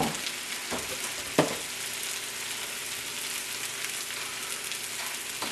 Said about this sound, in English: And saute them down.